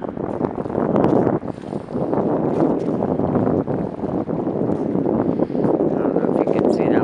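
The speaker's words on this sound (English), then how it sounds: "Breezy." Steady gusting wind at the water's edge, buffeting the microphone in a continuous loud roar with no break across the whole stretch.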